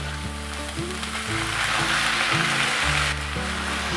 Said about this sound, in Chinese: 快速的翻炒，炒到现在豆腐是湿湿的状态，我们再继续把豆腐炒干